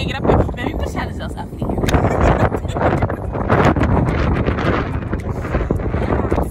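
Strong sea wind on the Belgian coast at Blankenberge buffets the microphone in loud, gusty roaring bursts throughout, with people talking under it.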